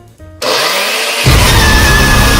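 A kitchen blender starts up abruptly and runs loud and close, its motor pitch jumping higher partway through as it keeps whirring with no talk.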